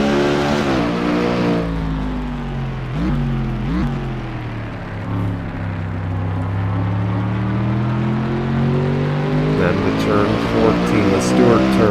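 A race car engine screams at high speed along a fast stretch of the Melbourne circuit in a racing game. It holds a steady, loud drone with shifting pitch through gear changes, and a commentator talks over it throughout.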